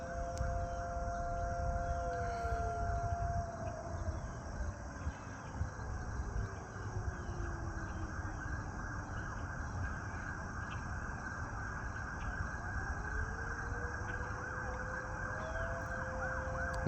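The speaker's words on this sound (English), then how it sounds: "A lot of sirens." Several emergency vehicle sirens wail in the distance, rising and falling tones overlapping over a steady background rumble, with no talking.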